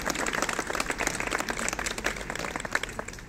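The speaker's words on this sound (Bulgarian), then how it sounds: "Искам едни бурни аплодисменти" An audience at a public speech in Momchilgrad applauds with dense, steady clapping from many hands, moderately loud and continuous with no talk over it.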